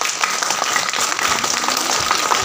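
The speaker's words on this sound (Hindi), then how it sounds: "तो एक बार अपने स्कूल के लिए क्लैपिंग करके दिखाएंगे" School audience at a magic show clapping for their school, a dense wash of many hands applauding together, loud and continuous throughout.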